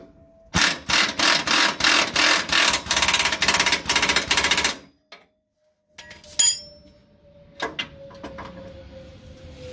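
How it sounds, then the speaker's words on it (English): An impact wrench works the idler arm bolts on a Cadillac Fleetwood, firing a loud, rapid hammering burst for about four seconds before cutting off, followed by a few scattered metallic clanks and quieter handling noises. "you don't have to have an impact, but it makes it so much easier"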